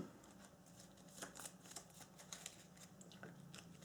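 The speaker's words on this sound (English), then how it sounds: "Then we shuffle the turn order deck." A turn order card deck for the board game Aeon's End is shuffled by hand, a quiet, steady papery riffling that runs close and continuously for several seconds without speech.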